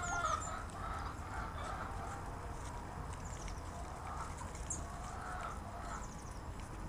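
Chickens cluck and murmur inside a farm stall, several birds giving short overlapping calls over a steady low background hum, fairly close and continuous, with no talking.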